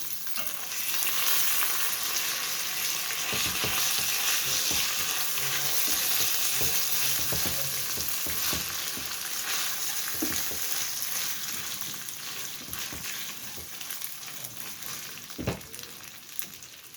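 Two glasses of washed rice sautéing in oil in a pot: a steady, dense sizzle continues throughout, with occasional stirring clinks and scrapes, close and even, no talking.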